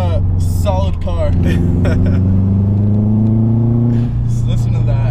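A modified 2006 Subaru Impreza WRX engine revs up under acceleration, heard from inside the car as a loud, rising boxer drone that climbs steadily for several seconds while people talk over it.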